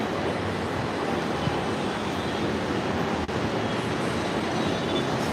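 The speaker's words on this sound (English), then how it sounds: "That's the subway station for the F train." A New York City F subway train rumbles through a station, a steady loud roar of wheels on rails with a faint click partway through.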